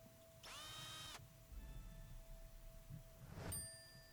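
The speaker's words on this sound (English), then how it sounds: "Could you use the power tool to attach the wood to the handle?" A power drill in the Cthulhu adventure game Gibbous whirs in a steady, loud burst lasting under a second, followed by low mechanical rumbling and a bright metallic chime, all without any talk.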